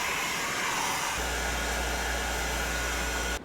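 Heat gun used to heat-curl foam armor parts, a steady loud blowing whoosh with a motor hum that deepens after a second and cuts off abruptly at the end, close and alone.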